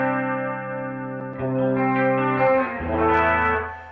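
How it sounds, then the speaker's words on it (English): An electric guitar runs through a multi-chorus effect on a HeadRush pedalboard feeding an amp, sustained shimmering chords changing a few times, loud and alone. "we have a couple of other effects like our multi-chorus"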